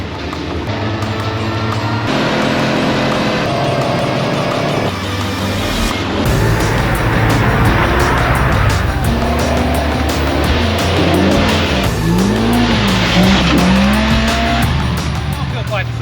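A Polaris RZR Pro R fitted with big, heavy 37-inch tires tears around a dirt track, engine roaring loud and close with revving shifts and tire squeal throughout, a voice talking over the noise.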